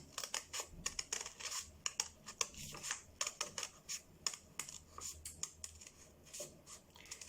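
Scissors snip through paper around a heart shape, a steady run of quick close crisp cuts, each stroke sharp and separate, with no voice over them.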